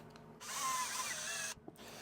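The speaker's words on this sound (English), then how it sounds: "I have a clutch on this drill, so I can't over tighten it and wreck anything" A cordless power drill with a clutch runs steadily for about a second, driving a baffle into a Little Bird or Pac Lite suppressor during cleaning, then cuts off, followed by a light click of handling.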